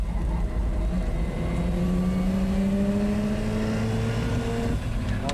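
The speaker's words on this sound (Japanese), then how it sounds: "あ、なんかエンジンばらついてる。" A nearly stock Mazda RX-7 FD3S rotary engine runs during laps on a circuit, its tone rising steadily under acceleration and then falling back as the engine stumbles from fuel starvation, heard from inside the car with no talking.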